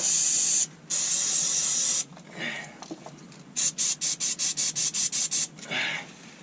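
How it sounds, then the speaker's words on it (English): Penetrating lubricant is sprayed onto a seized truck hub in two long, loud hissing bursts, then about a dozen quick, evenly spaced squirts, with quieter rubbing and scraping in the gaps. "I'm going to give that a squirt while I'm here. See if we can free it off a bit."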